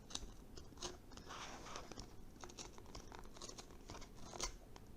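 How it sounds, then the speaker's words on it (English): A blade scoring repeatedly around a cardboard rocket body tube gives quiet, irregular scraping and crunching cuts, close up and fairly faint, with no voices. "It's going to take about 2 to 3 times around for you to cut through."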